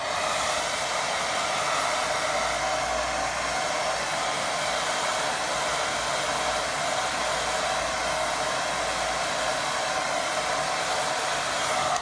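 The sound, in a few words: hair dryer drying a watercolour painting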